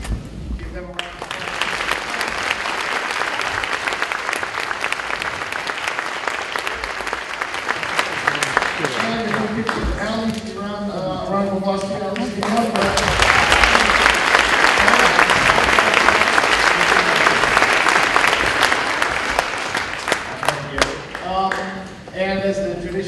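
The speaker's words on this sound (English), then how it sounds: "Please give them a round of applause." An audience at a school advanced band concert applauds in a loud, sustained wave of clapping that swells and continues for over twenty seconds, with brief voices and some tonal sounds threading through the middle.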